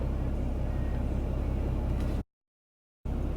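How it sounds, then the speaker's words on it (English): A 2019 RAM 2500 Laramie Longhorn diesel pickup backs up and turns, its steady engine drone filling the clip before cutting to brief silence and then resuming. "So as we back the truck up"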